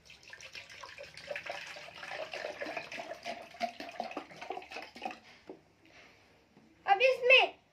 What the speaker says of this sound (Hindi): उसमें बोतल की मदद से पानी डालेंगे